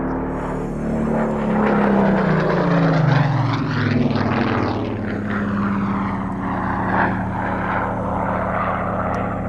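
PR-19 propeller aircraft flying past at an air festival, a loud, continuous engine drone whose pitch sweeps downward as it passes, then fades slowly while still audible.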